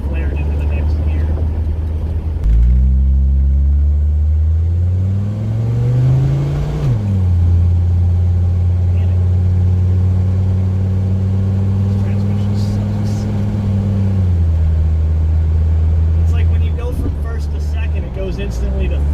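A Mercedes-Benz W123 300TD with the OM617 turbo diesel pulls away in drive, its low engine drone rising in pitch then dropping at each automatic shift into second and third, heard from inside the cabin with someone speaking over it.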